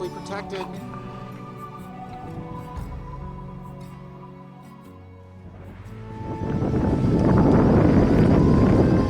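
A sailboat under way at sea, wind buffeting the microphone loudly and rising into a steady roar of wind and rushing water in the second half, after a stretch of music-like tones at the start.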